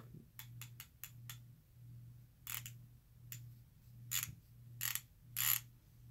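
A tough Taiwan-made ratchet clicks through quick bursts of rapid pawl ticks, several short rattling runs separated by brief pauses, close and clear over a low steady hum.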